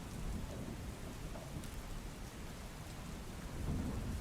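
Heavy rain pours steadily over flooded farm fields in Surendranagar, with thunder rumbling through the dense, loud roar of water for the whole stretch.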